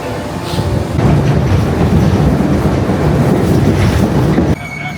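Subway train ride in the US heard from inside the car: a steady, loud rumble of wheels and rails with faint clatter runs throughout, easing slightly near the end.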